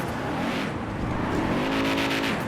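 A 2024 S650 Mustang GT engine in GTA FiveM revs loudly and steadily, rising in pitch through the second half as it climbs under throttle, with no voices over it.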